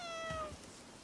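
A single drawn-out cat meow from the video game Bellwright, clear and fairly quiet, with a falling tone that fades into a faint background hum.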